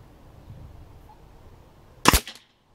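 A Black Ops Soul Langley air pistol fires once at a can 20 meters away, giving a single sharp crack with a short ring after a quiet, faintly rustling lead-in.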